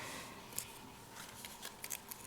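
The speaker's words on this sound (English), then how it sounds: "This piece of tape cut in half, or cut the piece off." Scissors snipping a piece of tape at a craft table, a few faint crisp clicks spread across a quiet moment with no talking.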